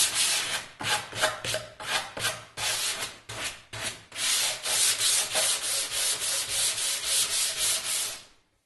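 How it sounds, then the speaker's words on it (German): Sandpaper rubs back and forth along the edges of a wooden cajon drum kit in steady rhythmic strokes, close and loud, then a longer continuous scrubbing passage. "Hier die Kanten sind auch gebrochen, auch schön mit dem Schleifpapier entlang hin."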